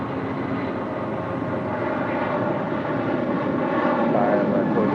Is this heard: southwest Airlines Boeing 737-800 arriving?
yes